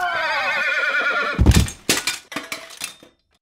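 A mortally wounded warhorse lets out a long, loud, wavering neigh, then crashes down in a heavy thud of collapse. Several scattered clattering impacts follow before the sound cuts off to silence.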